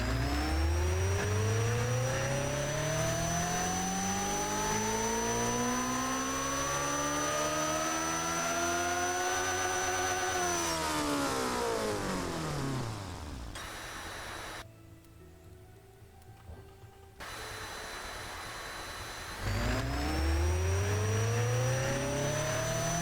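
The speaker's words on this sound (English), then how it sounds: "What a different sounding engine this thing is." A twin-charged engine in the Automation car tycoon game roars through a long dyno run, pitch climbing steadily, then cuts off and falls silent before revving hard again, loud and continuous.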